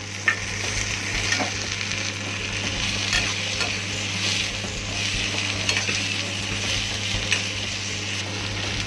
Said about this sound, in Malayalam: വലിയ ഉള്ളി ഇതെല്ലാം ഒരുവിധം ആയതിനു ശേഷം തക്കാളി ചേർത്ത് വഴറ്റുക